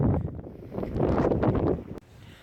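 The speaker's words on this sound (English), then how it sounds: "It's kind of windy" Gusty wind at the Korean DMZ buffeting the microphone, a rough low rumble that swells and fades, then drops away abruptly to a quieter hush.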